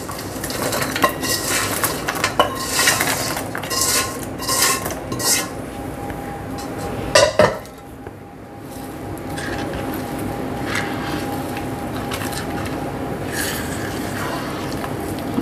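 Chicken pieces tossed into a pan with coriander seeds, cinnamon, cloves and cumin for chicken pickle, giving steady metal clatter and scraping as they are stirred, with a soft sizzle beneath and a sharp clank near the middle.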